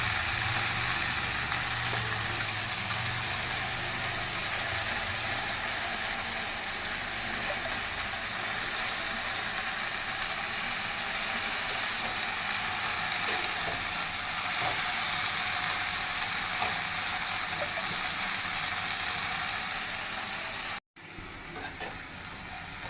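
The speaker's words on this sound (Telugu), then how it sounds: "ఆకు కూడా చక్కగా నూనెలో మగ్గబెట్టుకోవాలి" Mint leaves wilting in hot oil for a mint roti chutney give a steady, even hiss of frying that holds for about twenty seconds before briefly cutting out.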